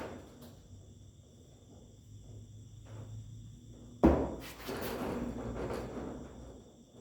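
A door is shut inside a dark warehouse used to store corpses: one sharp knock-like thud, followed by a few seconds of scraping, rumbling noise over a constant insect-like hum in the background.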